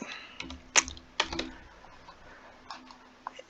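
Scattered keystrokes on a computer keyboard, light irregular taps with a few sharper clicks, close by against a quiet background hum.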